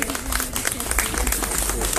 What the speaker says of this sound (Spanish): Sí, merece un aplauso.